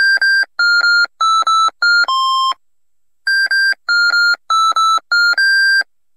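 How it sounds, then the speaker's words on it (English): Beeps from a PC internal speaker in the Peasant's Quest retro game: a bright, buzzy melody of short square-wave tones in two matching phrases, each ending on a longer lower note, loud and alone. "Featuring 2-bit mono PC internal speaker sound."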